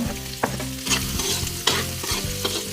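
Garlic sizzling in a hot pan at the start of a sautéed crab with squash and string beans, heard close up under steady frying hiss, with sharp spatula scrapes and clacks landing roughly every second.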